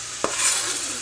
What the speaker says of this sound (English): I'm sauteing this first section.